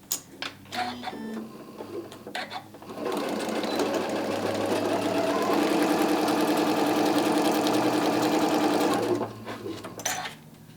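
Sewing machine stitching an Easter basket, a close, steady mechanical whir running for about six seconds between brief starts and a stop, with faint handling sounds before and after.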